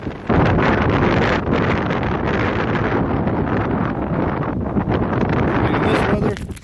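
Strong blizzard wind buffets the microphone on a catfishing outing, a loud, steady roar of gusting noise that barely lets up from start to finish.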